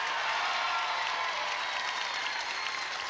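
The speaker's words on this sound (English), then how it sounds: "Applaud, audience, if indeed you think this" Audience applause fills a television studio, steady and dense throughout, a broad wash of many hands clapping at once with no pauses.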